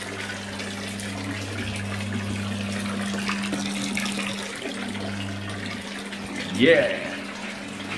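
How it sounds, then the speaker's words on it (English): Water runs from a tap into a filling bathtub, a steady broadband rush with a low hum beneath it, and a brief spoken word near the end. "I'm gonna have a nice relaxing bath."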